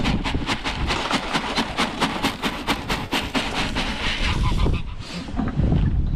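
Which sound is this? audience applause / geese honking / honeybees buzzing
geese honking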